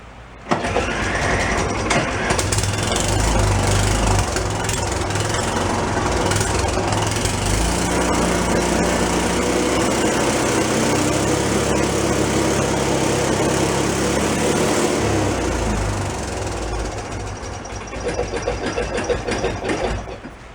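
Newly installed engine in a Beaver amphibious vehicle, first start in 25 years, running steadily at a loud, rough idle for about fifteen seconds before easing and wavering toward the end.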